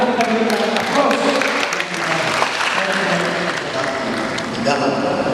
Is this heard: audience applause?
yes